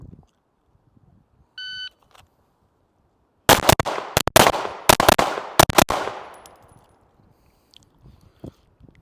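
Rapid handgun fire during live-fire speed and accuracy drills at a range, a timer beep followed by about eight sharp, loud shots in quick succession with echoing tails, then quiet.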